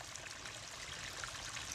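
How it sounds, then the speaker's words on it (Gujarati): Water trickling steadily off a rock face, a continuous close splashing flow with no voices, like a small stream. "પથ્થરમાંથી અગણિત તત્વો લઈને આવતું આ પાણી આપણા શરીરને તરબતર કરી દે છે."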